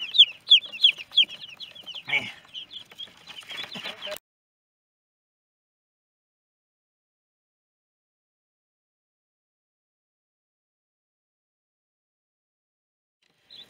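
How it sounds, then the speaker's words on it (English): A crowd of meat chicks cheeps and peeps busily at close range for a few seconds before everything falls silent. "These are our meat chickens for the year."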